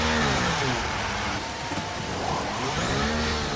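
A Formula 1 race car engine in the F1 23 racing game, a loud close whine that drops in pitch as the car slows into the pits, with a steady droning hum underneath.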